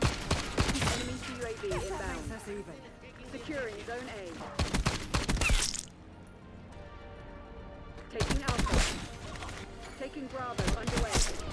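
Gunfire from a one-shot weapon in the video game Black Ops 6, with loud, sharp bursts of shots in several clusters across the clip and other game noise between them.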